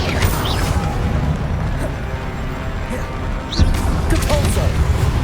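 Spell combat in Hogwarts Legacy, with Confringo and Expelliarmus cast in quick succession: continuous whooshing magical blasts, crackles and impacts over a dense game soundscape, one heavier hit near the end.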